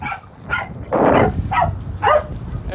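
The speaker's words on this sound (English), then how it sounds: "There's some caged dogs keeping protection over the farm." Caged dogs guarding a farm with greenhouses bark in repeated short bursts, about five barks spaced irregularly, fairly loud and near.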